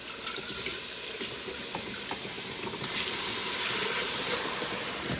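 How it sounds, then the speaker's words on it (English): Steady hissing rush of water pouring into a pot with red chili for enchilada sauce, swelling louder midway and continuing without voices. "I'm just going to finish pouring my water in"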